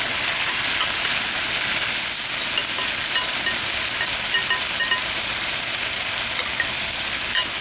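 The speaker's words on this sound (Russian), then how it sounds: "И все это перемешиваем и поджариваем." Meat and onions for Uzbek plov sizzle loudly in hot oil, a dense continuous frying hiss with occasional scraping from stirring, close and steady throughout.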